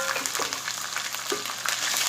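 Meat dropped into a pot of frying ginger for tinday gosht sizzles steadily, with a few clinks and stirring knocks over the constant hiss.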